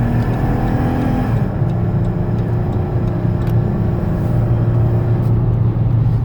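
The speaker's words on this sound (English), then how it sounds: "you can hear the engine run and the transmission shift" A 2017 Dodge Caravan SE Plus wheelchair van accelerating on the road toward highway speed, heard from inside the cabin: a steady loud engine drone and road rumble, with the engine pitch shifting as the transmission changes gear.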